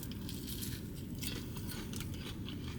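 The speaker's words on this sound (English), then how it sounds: "I'm trying to like bite a breading piece." Biting into the crunchy fried breading of a Shake Shack chicken sandwich, with close crackling, crunching chewing that runs steadily and loudly for a few seconds with no speech.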